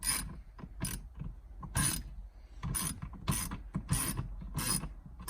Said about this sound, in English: You are bolting with intent.